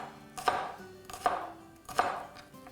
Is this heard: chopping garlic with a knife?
yes